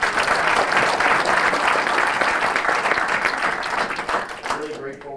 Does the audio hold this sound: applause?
yes